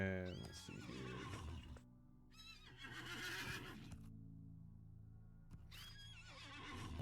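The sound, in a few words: horses neighing in the video game LOTRO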